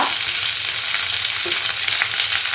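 Chopped onions frying in a pan with mustard seeds for a quick curry, a steady close hiss and crackle of sizzling oil running throughout with no voices.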